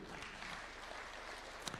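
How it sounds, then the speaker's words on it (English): Brief applause for a Kenyan Tokyo athletics medalist at a presidential breakfast ceremony, a steady low wash of clapping from a modest crowd, fairly faint and even with a sharper clap near the end. "Clap for him."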